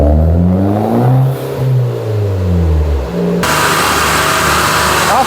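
An Alfa Romeo Mito 1.4 turbo Abarth revs hard on a dyno, its loud engine note sweeping up and down through the gears before cutting to a steady, rushing roar.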